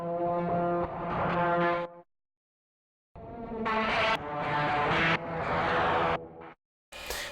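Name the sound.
guitar through effects, recorded to cassette, comped and chopped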